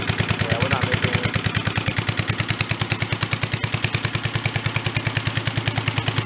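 An abandoned vintage Mite-e-Lite generator engine runs with a fast, even chugging beat, loud and close, with voices briefly underneath.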